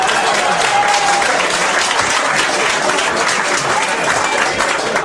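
Sustained audience applause at a stand-up comedy show for comedian Rich Voss, a dense, steady wash of clapping from a crowd that holds at full loudness for the whole stretch.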